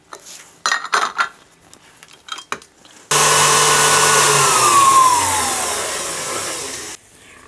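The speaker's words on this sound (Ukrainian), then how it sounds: "Насадка вінчик збиваємо міксером до посвітлішення та збільшення в об'ємі." An electric mixer with a whisk attachment beats butter and sugar for Christmas rum stollen cookies, a loud steady whir running about four seconds after some clattering bowl noises, then cutting off abruptly.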